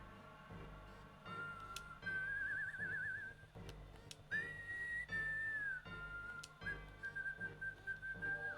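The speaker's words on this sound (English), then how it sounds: "Listen to my whistling skills." A person whistles a wavering, warbling melody in several drawn-out phrases, fairly quiet over a low background hum with faint clicks between notes.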